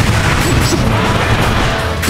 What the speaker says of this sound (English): this time I'm shooting missiles